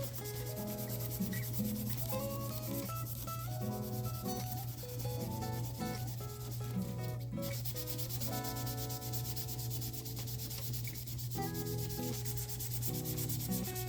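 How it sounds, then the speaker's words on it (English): An electric guitar being hand-sanded with fine 800-grit sandpaper, faint quick back-and-forth rubbing strokes that run almost continuously over a steady low hum. "When you get into these finer sandpapers like 800, you notice I'm not using the radius block."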